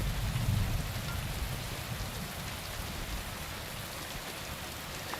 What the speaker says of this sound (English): In the heavy rain.